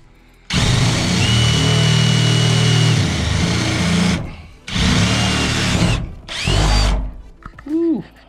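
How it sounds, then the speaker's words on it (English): Power drill fitted with a 3/8 bit boring holes through a van roof: a loud, close, steady grinding whine that runs for several seconds, stops, then returns in two shorter bursts with brief pauses between. "I drilled four holes in the corner, and now I'm gonna chase it with the 3/8"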